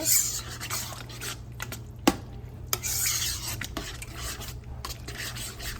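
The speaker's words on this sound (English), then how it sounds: "let's get all of that stirred up in there" Homemade sauce with oregano and basil for a cheeseburger casserole is stirred in a pot, making soft scraping and rubbing strokes with a couple of sharp clinks of the utensil against the pot, close and with no speech.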